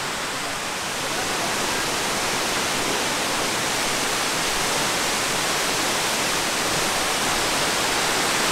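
Kuang Si Waterfall in Luang Prabang roars with a constant, dense rush of falling water, loud and unbroken from start to finish.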